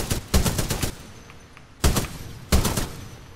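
A Spitfire machine gun in the video game Titanfall 2 fires three close, loud bursts of rapid automatic shots, the first long and the next two shorter.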